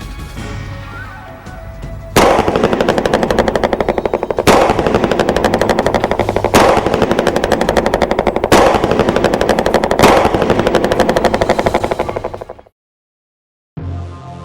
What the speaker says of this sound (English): 40 caliber 165 grain bullets are fired directly into the high-tech protected panels